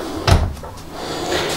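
A storage cabinet door in a 2018 Forest River Wildwood 233RBXL travel trailer opens or shuts with one close, solid clack, followed by quiet room tone.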